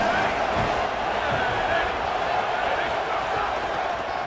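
Steady crowd roar in a college football video game, a continuous wash of stadium noise at even loudness throughout, with no clear words standing out above it.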